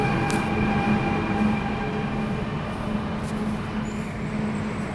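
A Dubai Metro train at a station gives a steady low rumble and hum with faint high tones, continuous and fairly close, with no talk.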